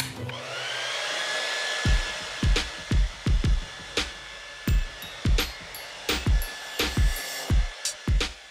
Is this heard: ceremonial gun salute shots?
no